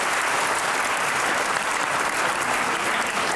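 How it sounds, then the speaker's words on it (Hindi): Studio audience applause on a Pakistani comedy talk show, a steady dense clapping that fills the whole moment loudly and evenly with no voices over it. "तालियां बजाएं साथ के लिए"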